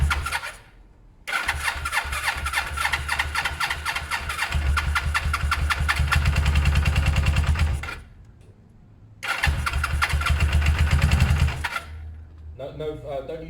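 Suzuki GS500 500cc motorcycle with the choke on, cranked and catching twice: a loud sputtering start that settles into a rough, rising idle before cutting out, then fires again; a voice is briefly heard near the end.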